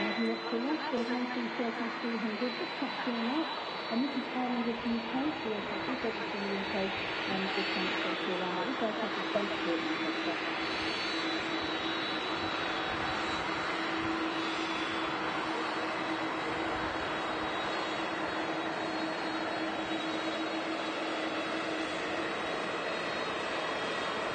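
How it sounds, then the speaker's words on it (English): An Aer Lingus UK Airbus A330-300 jet airliner roars steadily at an airport, a continuous broad engine rush lasting the whole stretch while people talk over it. "Here she is. Aer Lingus UK A330-300."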